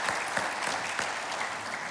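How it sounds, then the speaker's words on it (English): A studio audience on a morning live show applauds for Yuma's mayor, with a steady, moderately loud wash of clapping and a few sharper claps standing out, sustained throughout. "Big round of applause."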